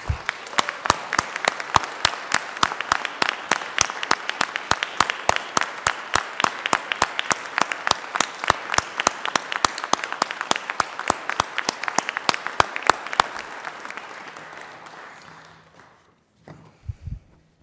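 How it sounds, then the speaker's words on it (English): Members of the Colorado state senate applaud their guests in the chamber. Steady, dense clapping rings out loud for about thirteen seconds, then thins and fades, with a few stray claps and small knocks trailing at the end. "would you please join me in a round of applause for their work?"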